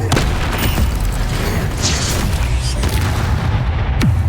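The Bombarda explosion spell goes off in Hogwarts Legacy as a dense, loud, rumbling blast that fills the whole stretch with roaring noise and scattered bursts.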